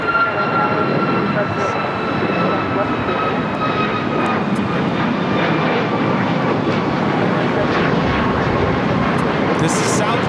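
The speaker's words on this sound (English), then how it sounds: "This is Southwest Airlines 1721 taking off to Baltimore on a MAX 8" A Southwest Airlines Boeing 737 MAX 8 takes off at LAX, a steady loud jet roar with whining engine tones held throughout, while people talk over it.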